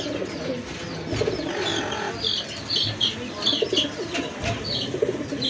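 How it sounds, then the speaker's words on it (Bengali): Red Rajgolla pigeons, a large-sized fancy breed, cooing and murmuring together at close range, with soft repeated coos over a steady bird-filled background and faint clucking from other fowl nearby. "আরেক জোড়া রেড রাজগোল্লা কবুতর"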